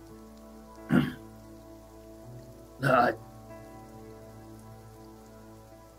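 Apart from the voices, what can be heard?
rain falling, ambient effect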